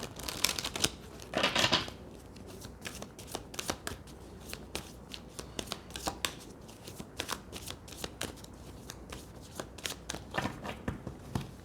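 Osho Zen tarot cards are shuffled close by, with a dense riffling burst near the start and then a long run of quick, crisp card flicks and taps, with no voice.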